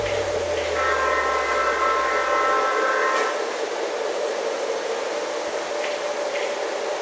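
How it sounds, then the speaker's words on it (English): Horn on an MTH model train sounds as a steady multi-tone blast for about two seconds over a low running rumble that fades out, then a quiet background with faint clicks. "that MTH's horn didn't work, and now all of a sudden he says, yes, okay, fine"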